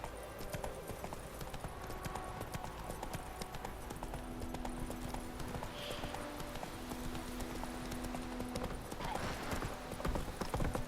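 Roach, a horse in The Witcher 3, gallops with rapid, continuous clip-clopping hooves under steady game ambience, with a faint voice drifting in.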